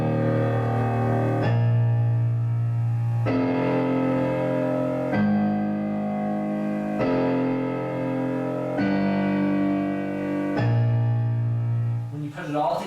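Piano plays the Shin Gojira theme with low octave Ds in the bass, a dense, steady run of sustained chords that changes roughly every two seconds, full and resonant throughout and unaccompanied by talk.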